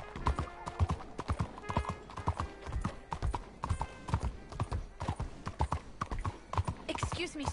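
A horse's hooves clip-clop at a steady gallop-like rhythm while riding in the Red Dead Redemption 2 video game, loud and continuous, with an occasional whinny and talk over the top.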